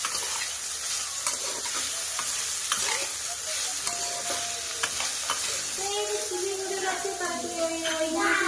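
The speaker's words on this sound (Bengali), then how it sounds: "গাজর আর আলু দুটোই একই টাইম লাগবে সিদ্ধ হতে, তাই একই সাথেই ভেজে নিচ্ছি" Carrot and potato pieces fried together in a pan for village-style chowmein, a continuous soft sizzle with stirring scrapes throughout, fairly quiet and close, with no voices.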